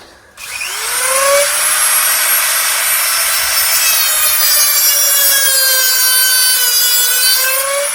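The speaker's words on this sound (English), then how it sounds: "That's just cutting out that cotter pin." A rotary cutting tool grinds through a cotter pin on a Yamaha XS650 motorcycle during rear wheel removal, a loud, steady high-pitched whine that starts abruptly and holds with a slowly falling pitch.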